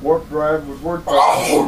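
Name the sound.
sneeze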